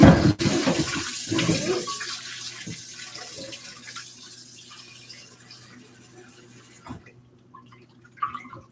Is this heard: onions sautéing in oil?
no